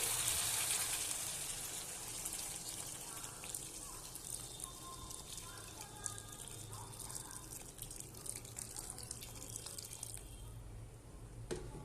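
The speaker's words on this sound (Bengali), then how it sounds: "এবার আমি গরম জল দিয়ে দেবো।" Hot water poured into a pan of well-braised, simmering hilsa fish curry with green banana and potato, a steady splashing, dripping pour that runs continuously for several seconds at moderate closeness, with no talk over it.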